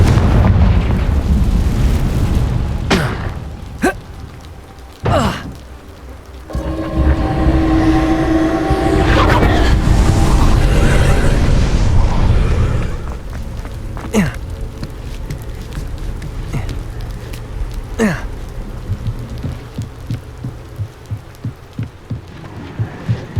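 A Confringo fire spell explodes in Hogwarts Legacy, a loud, broadband blast and crackle within a dense stretch of game sound, followed by scattered sharp impacts and a quieter rumbling tail.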